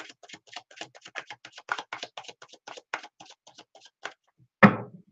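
A deck of playing cards is shuffled with a rapid patter of light clicks that end in a single louder riffle-and-bridge flutter, close and clear with no talk.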